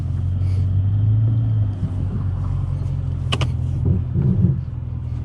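A Chevrolet Camaro ZL1 1LE engine drones steadily during a test run. The low rumble holds near and loud, with a brief rise and some mechanical clicks toward the end, and no voices.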